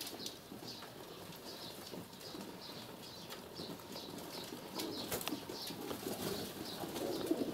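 Mixed flock of feral rock pigeons and tumbler pigeons, white and black birds close by, cooing softly while wings flap in repeated quick bursts over a steady outdoor background.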